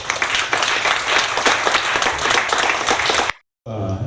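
Audience applause at a community hall event in Barcelona, steady dense clapping for about three seconds before cutting off abruptly, followed by a brief murmur of room sound.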